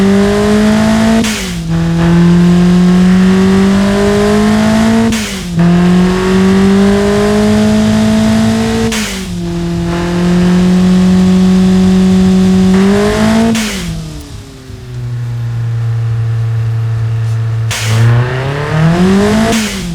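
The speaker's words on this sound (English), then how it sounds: "firing the engine with a turbocharger and do a burnout or something" A turbocharged Hyundai 1.4-litre four-cylinder engine in the Automation video game revs repeatedly, climbing in pitch through gears with sharp shift breaks and blow-off valve sounds, loud and close, with a rumbling low idle in between.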